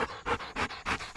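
A dog tired after a mountain hike pants close by, quick rhythmic breaths in steady bursts with no talking.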